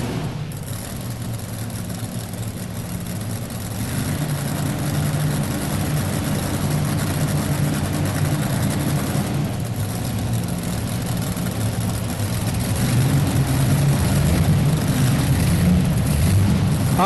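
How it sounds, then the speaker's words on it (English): An Allison aircraft engine being fired up off a big block Chevrolet engine at a farm machinery show: a steady, loud low rumble of running engines that swells and grows heavier toward the end. "Now they're going to fire that Allison aircraft engine up. And he'll fire that engine off the Chevrolet engine."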